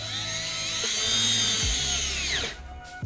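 A power drill whirs steadily for a couple of seconds tightening a screw while installing LED headlight boards, its motor pitch dropping as it strains, then cuts out near the end.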